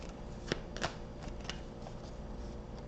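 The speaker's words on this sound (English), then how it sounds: "Alright, I'm going to have to shuffle," Tarot cards are shuffled by hand, Marseille deck, with soft riffling and a few sharp card snaps close by, quiet and unaccompanied by speech.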